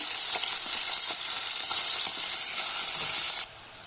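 Chopped onion added to browned meat sizzles and fries steadily in a pan, a loud continuous hiss close up with light stirring scrapes and no talk.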